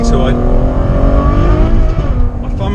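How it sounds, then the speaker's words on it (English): Ferrari GTC4 Lusso V12 engine revving hard through paddle-shift downshifts, a loud, close, continuous snarl with rising and falling pitch and a brief dip near the end. "you can just drop it down a few gears"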